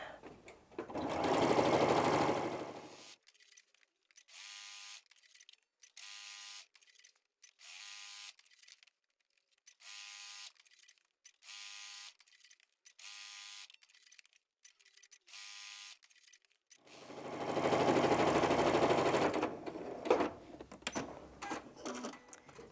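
Sewing machine quilting a small fabric mug rug, running in a series of short, even bursts with brief pauses between, set apart by louder rustling handling noise at the start and end.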